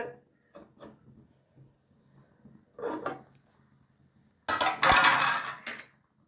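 A metal lid clinks against a pot, then a loud, bubbling hiss of boiling cluster bean soup bursts out for about a second before fading.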